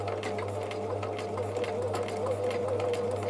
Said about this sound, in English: So each stitch is being stitched 3 times.